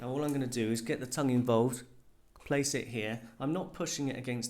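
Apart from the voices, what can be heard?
None of the usual background noises is heard.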